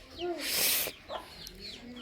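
Soft clucking and short chirping calls from small fowl, several brief notes over a couple of seconds with a brief burst of noise in the middle.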